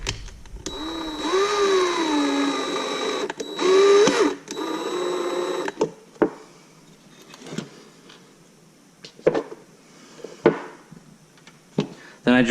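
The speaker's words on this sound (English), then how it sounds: "Then I drilled the other 2 diagonal holes through the plastic" An electric drill whines as it bores holes through a plastic license plate on a 2014 Chevy SS custom build, a steady high-pitched run for several seconds, then stopping, followed by scattered clicks and handling knocks.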